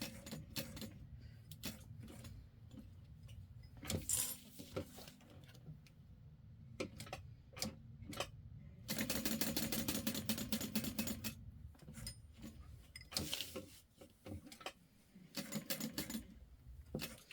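A sewing machine back-stitches a clear vinyl Peek A Boo beauty bag at a stitch length of 4, giving close, intermittent bursts of rapid mechanical stitching separated by clicks, handling noise and short pauses.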